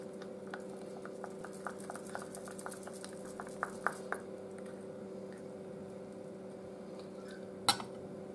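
Charcoal is stirred into a peelable face mask gel, giving soft, quiet squelches and small wet clicks at an irregular, unhurried pace over a faint steady background hum.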